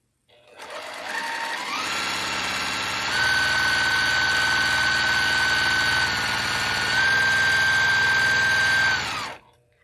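A sewing machine stitches a quarter-inch seam, its motor whirring up in speed and holding a fast, even hum close by, briefly easing before stopping.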